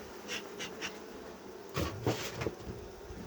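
Honey bees buzz around a hive being given a foam treatment, a soft continuous drone broken by a few louder passes as individual bees fly close.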